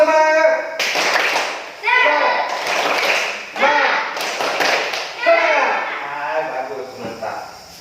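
Students in an Indonesian classroom chant together while doing a rhythmic spirit clap, loud bursts of clapping and tapping falling in repeated groups between their sung-out words.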